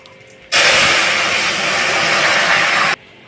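Fish broth poured into a hot pan of bottle gourd bursts into a loud, steady hissing sizzle that starts abruptly, holds for about two and a half seconds, then cuts off sharply.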